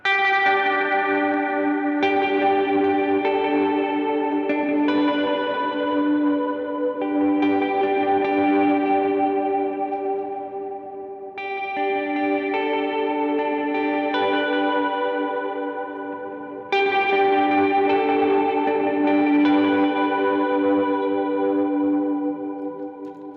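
Electric guitar through an ambient effects pedal on a large pedalboard: slow, ringing chords washed in chorus, echo and reverb, each swelling and fading into long shimmering tails, loud and close, with no voices.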